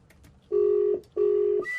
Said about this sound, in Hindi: अब उसी डॉक्टर को फोन मिला रहे हैं हम।